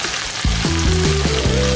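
Crumbled basil drop cubes are stirred into a sizzling pan while cooking a coquillets pasta meal, giving steady frying sizzle with faint stirring under a tonal background.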